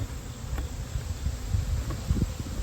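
Bees swarm around a large open-air hive during a removal, a steady low insect buzz filling the scene with a few louder passes close by.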